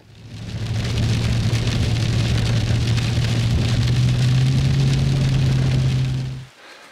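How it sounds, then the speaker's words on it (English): Steady rain pours down near a lake in British Columbia during a river hunting trip, a constant hiss of drops with a low rumble underneath that cuts off abruptly at the end. "of course, it's starting to rain, which is no big deal"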